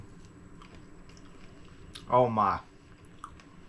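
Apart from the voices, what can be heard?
eating bourbon-glazed bacon dish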